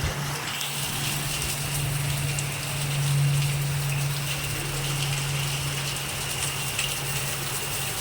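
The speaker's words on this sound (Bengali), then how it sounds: "কিন্তু বৃষ্টির অবস্থাটা দেখুন" Heavy rain pours steadily on surfaces outdoors, a dense continuous wash of drops with water gushing, loud and unbroken throughout with no talk.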